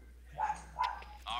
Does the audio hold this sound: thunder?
no